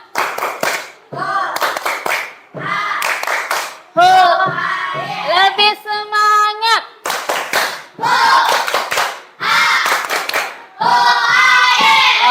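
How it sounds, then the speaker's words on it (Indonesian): Primary school class in Indonesia doing a rhythmic spirit clap together, bursts of clapping alternating with children chanting in unison, with a teacher's voice leading between segments. "yuk kita tepuk semangat, lebih semangat"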